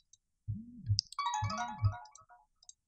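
Short electronic notification chime for an incoming message on a computer or phone, two soft low pulses with a bright tonal melody above, fairly faint and heard alone.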